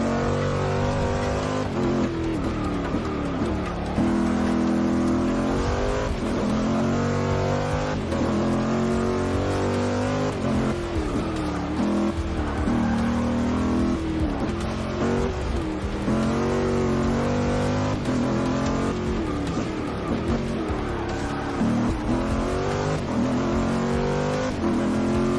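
Corvette race cars roar through a one-lap race in Forza Motorsport 6, with engines revving and shifting continuously, pitch climbing and dropping through gear changes, and occasional tire squeal over a constant loud drone.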